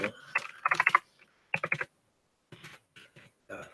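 Quick bursts of clicky keystrokes on a computer keyboard, close and fairly quiet, in short rapid clusters separated by brief pauses.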